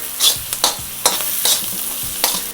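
Fenugreek leaves stirred into chicken frying in a pan for methi chicken fry: about five distinct scraping stirs over a steady close sizzle, with no voices.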